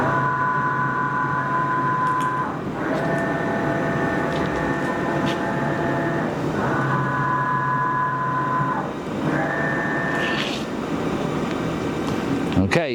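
A Hankook Protec-9NC hollow-spindle CNC lathe drives its X-axis, a steady mechanical whine with tonal hum that runs in long stretches, pausing briefly around the third, seventh and tenth seconds before resuming, close and fairly loud.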